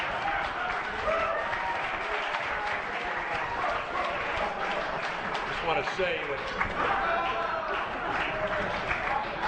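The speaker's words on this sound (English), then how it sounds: "that guy's even part of the group and he's applauding" Audience applause rolls through a hall for several seconds, a steady patter of clapping with someone talking over it.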